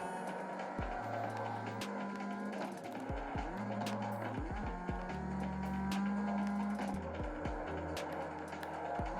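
Race car engine in the CarX driving game heard from the cockpit, revving repeatedly through rapid gear changes with tire squeal and skids, continuous and loud, no talking.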